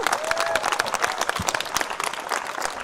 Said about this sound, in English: Give a round of applause to all the athletes